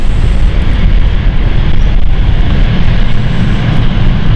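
A jet aircraft in a special advertising livery passes close at London City Airport, giving a loud, heavy, continuous roar with deep rumbling throughout.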